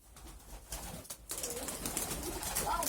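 Pigeons coo at close range with other birds around, a steady soft burble that gets fuller partway through, with no talk over it.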